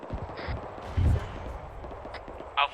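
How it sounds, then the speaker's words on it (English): A gunshot from 1-4 in a military video game lands as one heavy, muffled low boom around the one-second mark, with a second sharper report near the end, all under steady radio chatter and background noise. "1-4 is taking a shot."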